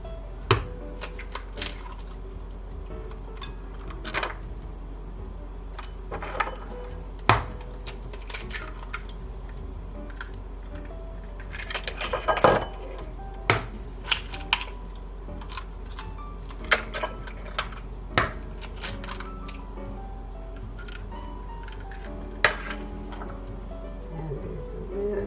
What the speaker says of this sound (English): And then the last thing is we're going to crack the eggs.